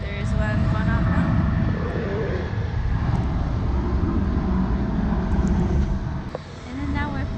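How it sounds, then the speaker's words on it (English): An airplane taking off at Narita Airport roars with a loud, steady engine rush that fills the whole stretch and eases slightly near the end. "The planes are really taking off behind me or in front of me."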